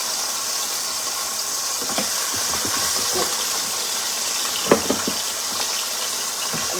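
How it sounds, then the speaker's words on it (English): Ribs sear and stew in a hot pan, giving a continuous close hiss with scattered soft pops and crackles and no talk over it. "me and the ribs are going to sit in this hot pan. I'm going to let it sear"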